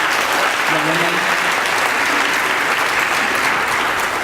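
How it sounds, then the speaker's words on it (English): Steady audience applause for a group of young women handbell ringers at a candlelight Christmas concert, a dense even wash of clapping sustained throughout with faint voices beneath. "please give a round of applause for these amazing young women"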